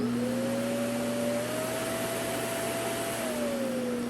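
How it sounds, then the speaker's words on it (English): A Bunfly pet grooming kit vacuum runs steadily with a whooshing airflow and a steady motor whine that rises slightly in pitch midway as the speed changes, close and constant. "Turn on and change the vacuum speed."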